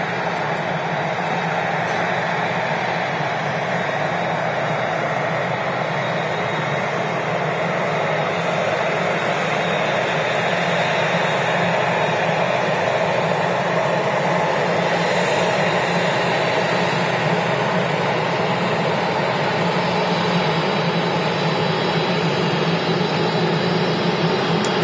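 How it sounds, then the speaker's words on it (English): A Singapore Airlines Airbus A350-900 jet taxis at Manchester Airport, its engines giving a steady, broad roar that holds at an even level throughout. "we've got the Singapore Airlines Flight 52 heading off to Houston"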